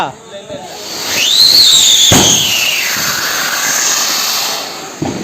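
A double-shot Diwali firework shrieks upward with a rising squeal and long hiss, a sharp crack bursting midway and another pop near the end, close and loud.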